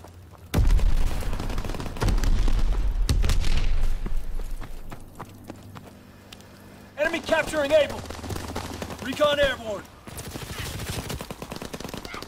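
Gunfire and bursts of automatic fire in Call of Duty WWII, loud and clustered in the first few seconds, then sparser shots under excited voices and game radio chatter.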